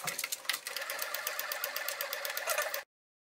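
A sewing machine stitching a quilted fabric storage basket, its fast, even needle clatter running steadily for nearly three seconds before stopping abruptly, close and clear with no talk.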